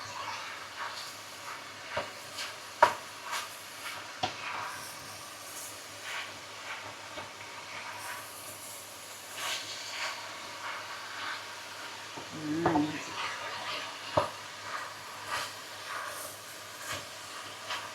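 Ground meat for Bolognese sauce browns in a pan with a soft, steady hiss and sizzle. Faint clicks and utensil scrapes break in now and then, and there is no talking.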